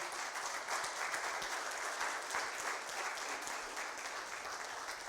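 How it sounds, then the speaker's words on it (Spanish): A church congregation applauds steadily and loudly, dense clapping filling the whole stretch without a pause. "Denle un aplauso de alabanza al Señor"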